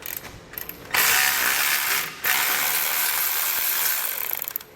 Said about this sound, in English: So we'll take this bolt out. This is a 16 millimeter.